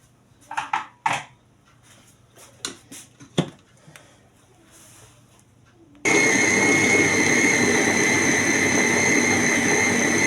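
An electric grinder spins up and runs loud and steady, grinding dried herbs at home after a few clattering knocks of handling.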